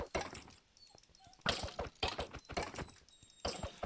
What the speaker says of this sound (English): Little dog wants attention.